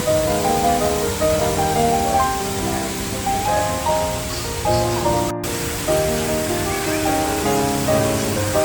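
A fountain in the Dusit Arun rooftop park sends out a steady, loud rush of splashing water, constant and unbroken throughout with no voices over it.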